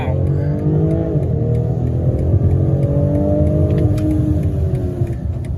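A 2021 BMW X3 M40i launches hard in sport mode, its engine roaring and revving up through rising pitch as the SUV accelerates, loud and close, with an occupant's voice over it.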